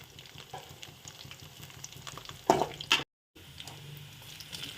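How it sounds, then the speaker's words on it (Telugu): Onions frying in oil in a pan for a chicken fry dish, a soft steady sizzle with a brief louder stir or clatter midway and a short gap. "ఆయిల్ వేసి అందులో ఆనియన్ వేసి ఎర్రగా కొద్దిగా వేగనివ్వాలి"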